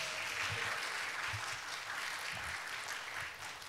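A family music night audience gives a round of applause, dense clapping from a crowd carrying on steadily before easing slightly at the end.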